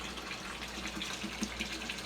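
Water poured from a hose or tap into a caiman's pond to top up evaporation, a steady close splashing trickle running throughout with no talk.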